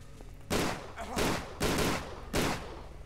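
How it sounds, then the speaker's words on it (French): A pistol in Tomb Raider: The Angel of Darkness fires four sharp, loud shots spaced about half a second to a second apart, each with a short ringing tail. "Ici, je sors mon pistolet."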